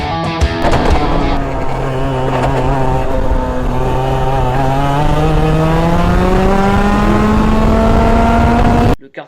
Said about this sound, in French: j'obtiens enfin mon premier kart de compétition